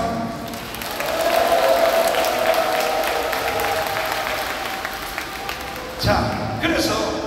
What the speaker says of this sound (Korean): 다시 한 박수.